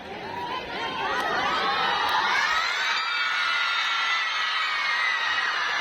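A crowd of schoolchildren cheering and shouting at a Children's Day event, a loud rising roar of high voices that swells after the first second and holds steady.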